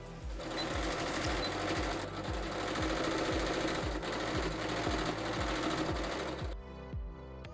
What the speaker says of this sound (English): And then I sewed everything together.